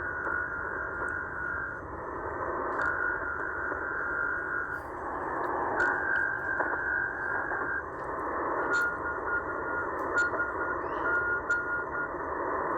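A Morse code station identifier on shortwave between 8000 and 9000 kHz, tapped out in quick dots and dashes over a wash of static, the tone steady and moderately loud with no voices.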